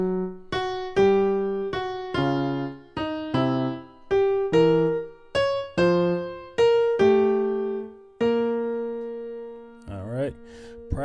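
Gospel piano chord progression from a song, played at full speed: about a dozen sustained, ringing chords in a steady rhythm, loud and close, ending on a long held chord with a brief flourish.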